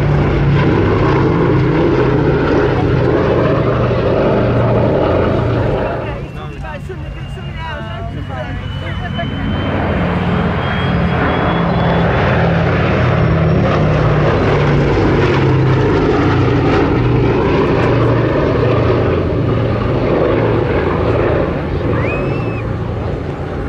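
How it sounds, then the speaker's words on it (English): A B-17G Flying Fortress, Sally B, passes with its four propeller engines droning loud and continuous, briefly dipping mid-pass before the roar swells back and holds. "Final run, the B-17G Flying Fortress, Sally B."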